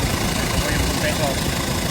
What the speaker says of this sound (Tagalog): Ito po yung compressor.